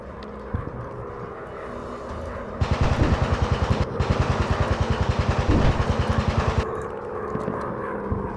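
Machine guns on a WW1 fighter plane in the VR game Warplanes fire in a rapid, steady rattling burst of several seconds, broken by a brief pause, over a droning aircraft engine.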